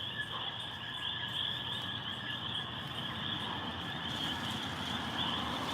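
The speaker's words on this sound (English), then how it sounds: "These are the island frogs. Can y'all hear them?" Coqui island frogs call steadily in a dense outdoor chorus, high repeated chirps layered over a constant hum of night insects, with no talking.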